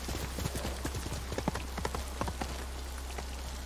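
Horse hooves clip-clop in a quick, steady rhythm in the Ghost of Tsushima video game, crisp and close over a low background rumble, with rain-like patter and no talk.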